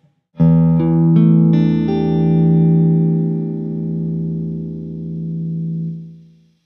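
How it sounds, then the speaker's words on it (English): A single minor seventh guitar chord, built up note by note, then left ringing and slowly fading for several seconds, clean and close. "Today we're gonna use the same shape to make a minor seven chord."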